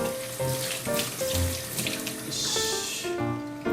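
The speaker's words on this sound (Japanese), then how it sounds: "ここはね、軽く水洗いで。" Tap water running over horse mackerel in a kitchen sink, a steady close splashing stream with shifting tones as the fish is rinsed under it, no voices.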